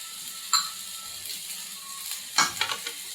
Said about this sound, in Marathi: हा शिजवलेला भात घालून घेऊया। मिक्स करायचं आहे व्यवस्थित।